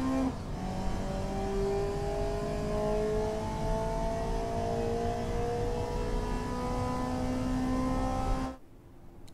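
A 1972 one-liter hatchback of about 100 horsepower in the game Automation accelerates hard through its gears, the engine note climbing steadily and loudly for about eight seconds before cutting off abruptly.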